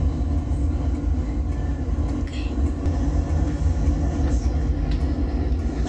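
A CSX freight coal train rolls steadily past at close range, a continuous heavy rumble of wheels and cars with faint clanks, while people talk nearby.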